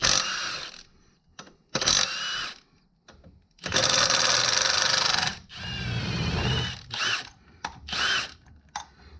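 A ratchet undoing 15mm engine mount bolts on a Chevrolet Cruze 1.4 liter, close rapid clicking bursts of varying length separated by short pauses.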